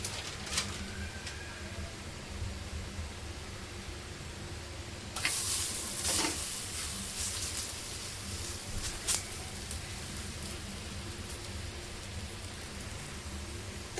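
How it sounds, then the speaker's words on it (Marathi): Masala bhakri flatbread placed on a hot tawa over a gas flame, with a soft continuous sizzle that jumps louder partway through as the dough meets the pan, plus faint clicks and light handling sounds. "भाकरी आता आपण तव्यावर टाकून घेऊया"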